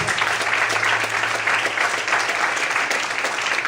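A church congregation applauds during a sermon, a dense, steady burst of clapping that stays loud and even for the whole stretch.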